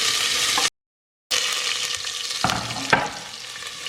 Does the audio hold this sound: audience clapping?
no